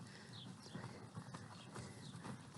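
Horse hooves clip-clop at an extended walk on a ranch, a steady rhythmic beat of moderately loud footfalls over a constant background hiss, with no talk.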